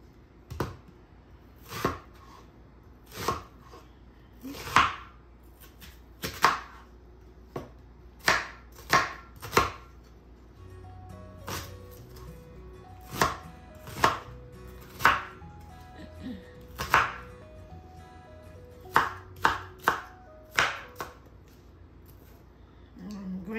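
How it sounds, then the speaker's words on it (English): An onion is chopped on a board for Nigerian fish pepper soup: crisp knife strikes land one after another at an uneven, unhurried pace across the whole stretch, close and distinct, with soft music playing beneath. "So now I'm going to chop my onion."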